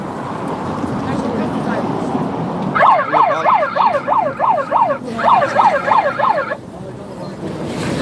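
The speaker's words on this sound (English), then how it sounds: "And make the sirens go on." Emergency vehicle sirens at Dublin port switch on in two bursts of fast warbling yelps, loud and nearby, with people talking in the background before and after.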